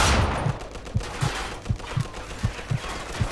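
Magnum revolver gunfire in the video game Mafia 2, about eight sharp shots spaced roughly a quarter second apart, firing alone with no talk.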